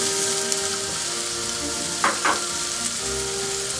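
Sliced onions and carrots sizzle steadily in a pot for French-style beef stew, a continuous close hiss with a couple of brief louder bursts as the vegetables are stirred.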